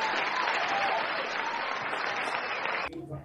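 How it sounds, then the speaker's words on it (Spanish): Steady applause fills the room during an online medical talk on enteral feeding of extremely premature infants, dense clapping that cuts off abruptly near the end, leaving a faint bit of room sound. "le mandamos nuestros aplausos virtuales hasta los Estados Unidos"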